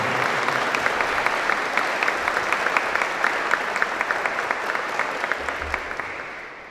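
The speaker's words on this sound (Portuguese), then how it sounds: "vamos dar uma salva de palmas para o nosso pastor, Dom Gregório." A church congregation at a thanksgiving Mass applauds the arriving bishop with steady, dense clapping that stays even throughout and fades slightly at the end, with no one talking over it.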